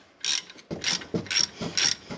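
A ratchet wrench undoes the brake caliper bolts on a Mercedes-Benz W205 C450 AMG, making several short bursts of rapid metallic clicking separated by brief pauses, close up and alone.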